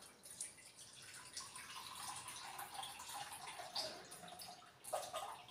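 Boiled, cooled water strained into a container, giving a steady trickling, dripping pour with a few splashy bursts, fairly close and moderate in level, no speech.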